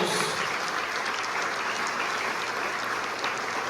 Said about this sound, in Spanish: A su nombre podemos dar un aplauso a la gloria de nuestro Dios